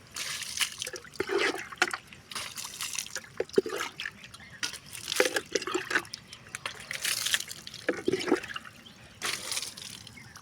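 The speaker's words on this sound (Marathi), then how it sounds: "आधी सगळ्या गाडीवरती पाणी मारू" Water sprays and splashes in repeated bursts against a mud-caked vehicle being washed at a river, with hissing and dripping between pulses, close by and fairly loud.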